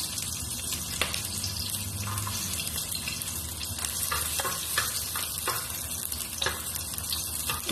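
Onion and garlic sizzle in heated cooking oil for a vegetable dish, a steady close crackle with scraping stirs and soft clinks throughout, no voices.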